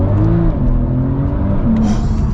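A modified 1,000-horsepower Porsche 911 Turbo with a PDK gearbox accelerates hard, its engine a loud, continuous close roar with rising tones and no talk over it.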